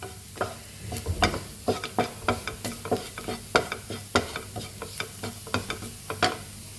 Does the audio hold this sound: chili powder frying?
yes